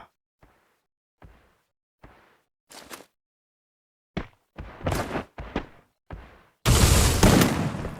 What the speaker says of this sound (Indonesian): Tembakan pertama dari Randy.